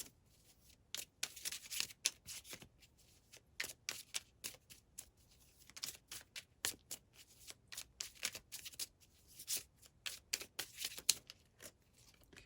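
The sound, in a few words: tarot cards being shuffled and drawn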